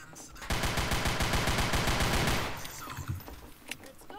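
Rapid automatic gunfire in the zombie shooter Zombie Panic Source, a dense burst of evenly spaced shots lasting about two seconds, loud and near, then fading into scattered game noise.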